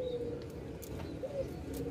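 A spotted dove (tekukur) kept for breeding coos softly in low, steady tones over a constant background hiss, with a few faint higher chirps.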